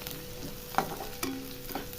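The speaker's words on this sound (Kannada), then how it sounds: "ಇವಾಗ ಜಜ್ಜಿರೋ ಬೆಳ್ಳುಳ್ಳಿ ಕೂಡ ಹಾಕ್ಕೊತಾ ಇದ್ದೀನಿ" Crushed garlic dropped into hot oil tempering for an amaranth-stem stir-fry, giving a faint, soft sizzle with a couple of sharp stirring clinks.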